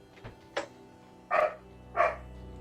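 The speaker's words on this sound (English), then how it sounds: "Eddie Bingo, that's a dog barking." A dog barks in the distance, two clear woofs with a couple of softer yips before them, spaced about half a second apart over a quiet outdoor background.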